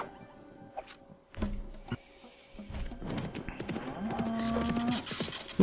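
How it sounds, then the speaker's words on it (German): A cow in the video game Worms 3D moos loudly and drawn out, with sharp impact effects and other game sounds mixed in around it. "Eine Kuh, die im Hintern geschossen wird mit einem Blitz"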